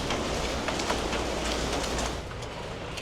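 Steady rain pours down outdoors in Taiwan, a dense, even hiss of drops on surfaces that holds loud and constant for the whole stretch, with no voices.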